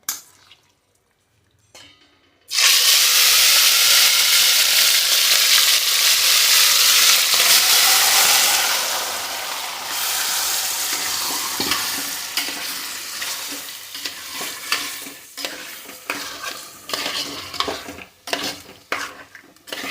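Raw chicken mixed with ground masala hits a hot pan after a quiet start, bursting into a loud, continuous sizzle that later thins into scraping and stirring knocks, with no talk.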